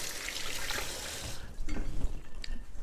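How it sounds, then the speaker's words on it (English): Running water briefly rinses dough-covered hands while making cinnamon rolls, a soft splashing hiss at first that gives way to faint wet rubbing and drips. "I'm going to give them a tiny rinse."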